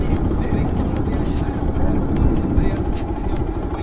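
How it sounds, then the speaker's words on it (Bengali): RS 200 motorcycle crossing thick muddy ground on an off-road trail, its engine a loud close steady drone with rumbling low end for several seconds, mixed with background speech. "এবার বাইক পার করছে ভাই।"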